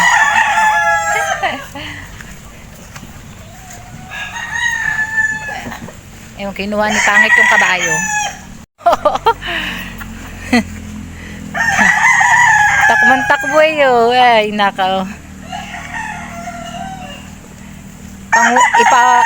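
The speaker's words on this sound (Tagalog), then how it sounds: "Sumasalubong na yung mga manok kayo." Several chickens cluck and a rooster crows nearby as the flock gathers to be fed, the calls overlapping in a busy farmyard, while people talk intermittently.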